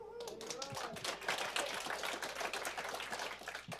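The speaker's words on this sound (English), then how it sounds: "I want a hearty round of applause for Rich Ross" An audience at a user group meeting applauds, producing a dense, steady patter of many hands clapping at moderate distance that continues throughout.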